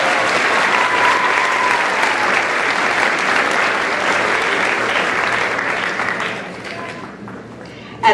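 Steady applause from an audience at an eighth grade promotion ceremony at an aerospace academy school, honoring a student speaker; dense clapping holds for about six seconds, then fades to a quieter tail.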